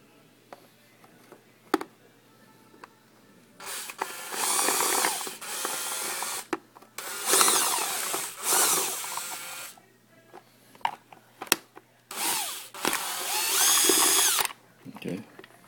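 Power drill backing screws out of a Minn Kota Endura 55 trolling motor, several separate whirring bursts of a few seconds each with clicks and handling noise between them, close by.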